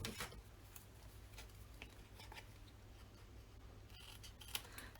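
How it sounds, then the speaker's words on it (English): Scissors snipping paper corners around a small template while making scrapbook cards, faint quick cuts scattered over a quiet room with a low hum. "you can just quickly cut your corners"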